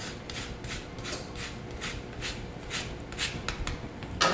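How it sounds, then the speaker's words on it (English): An orange is zested over cranberries, rum and ginger, giving a close, quiet, rhythmic rasping of about a dozen even scraping strokes against a grater. "Zest an orange into it."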